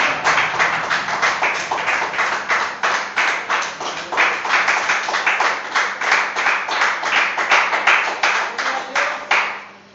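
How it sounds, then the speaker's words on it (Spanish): A church congregation claps in praise, a rapid run of many sharp hand claps in a fairly steady rhythm, close and loud, continuing unbroken before stopping abruptly at the end. "¿Cuántos le dan un aplauso al Rey de Gloria?"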